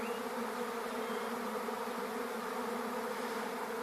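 Free-living wild bees swarming around a nest inside a wall, giving a steady, dense buzzing drone that holds unbroken and fairly loud throughout.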